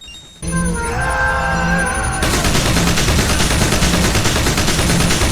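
Cutscene gunfire from the video game Metal Gear Solid Peace Walker: a dense, continuous rattle of rapid shots that starts abruptly and stays loud throughout, with tonal musical or effect layers underneath at first and no talking.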